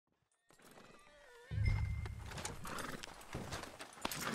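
Horse hooves clip-clop steadily close by in Red Dead Redemption 2, and a horse whinnies with rising and falling tones, over a busy background that grows louder partway through.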